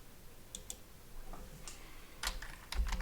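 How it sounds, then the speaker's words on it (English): Sparse, faint clicks of keys being struck on a computer keyboard while a hostname is entered for a DNS record; a few isolated taps come first, then a denser burst near the end, with no talking. "So we're going to type in the host name"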